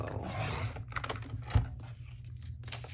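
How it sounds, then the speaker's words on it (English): A 12 inch paper trimmer slicing through scrapbook paper: short close rasping slide of the blade with light rubbing and a soft knock, quiet and without talk. "I'm just using my 12 inch trimmer"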